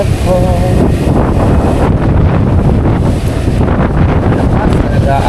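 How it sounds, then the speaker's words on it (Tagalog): Strong wind roars and buffets the microphone without pause, likely at sea or on a boat. Loud rushing gusts mix with low rumbling noise, and brief speech is faintly audible underneath. "Lakas talaga ang hangin."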